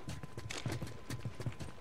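Horse hooves clopping in the video game The Last of Us, a close, steady rhythm of hoof strikes at walking pace.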